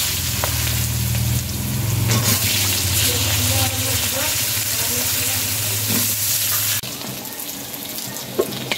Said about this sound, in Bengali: এবার মাংসের আলুগুলো ভেজে নেবে।